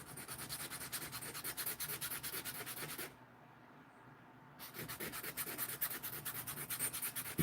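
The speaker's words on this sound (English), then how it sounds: "This thing's too fat. Let me see if I can file it down." Hand file rasping down a small pin during knife making, a quiet rhythmic scraping of steady back-and-forth strokes with a brief pause in the middle before resuming.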